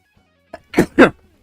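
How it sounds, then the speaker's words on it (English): A single sneeze, close and fairly loud, with a short intake and then two sharp bursts, heard alone with no talk around it. "Okay, that was a sneeze."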